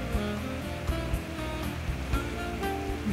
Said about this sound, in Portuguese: E não para de ferver esse aqui.